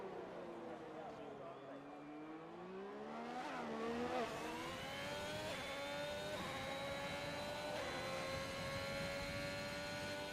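A race car in a racing video game closes in from behind, its engine note climbing steadily in pitch and growing louder into a sustained high whine, with a voice talking over it.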